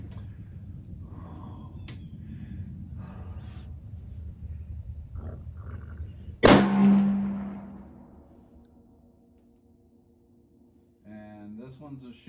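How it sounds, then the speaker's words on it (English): A single loud M1903 rifle shot fired at a target sharply breaks through outdoor background noise, its blast ringing and decaying over a few seconds before faint sounds return. "I'm shooting to the target just to the left"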